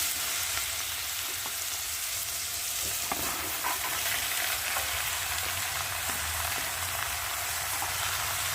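Bottle gourd pieces fry in a pan with cumin seeds and bay leaf, giving a steady, even sizzle with faint stirring scrapes and no voices.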